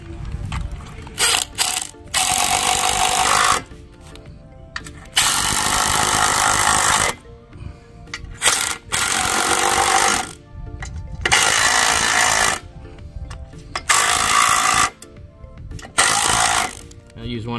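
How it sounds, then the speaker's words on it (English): Impact drill driving screws while building a budget wooden swing set, heard as repeated loud bursts of rattling, hammering mechanical noise of a few seconds each, separated by short pauses. "you're gonna use an impact drill to put these in"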